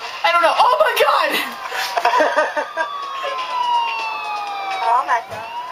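Police car sirens in the game GTA IV wail with rising and falling sweeps in the background, running under excited, overlapping talk and a brief chuckle.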